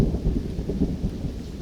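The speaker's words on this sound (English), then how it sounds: "Uh-oh. Here comes the thunder." Deep rolling thunder rumbles continuously, with rain hissing underneath.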